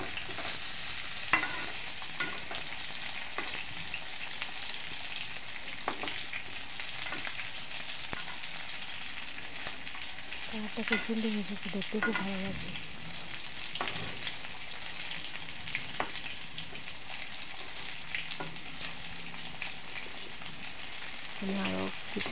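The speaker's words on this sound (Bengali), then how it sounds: "খুব ধীরে ধীরে নাড়ছি, আস্তে আস্তে নাড়তে হবে।" Karkol filling with mustard and poppy seed frying in a pan and stirred slowly, giving a steady sizzle broken by repeated soft scrapes of the spoon, with someone talking over it now and then.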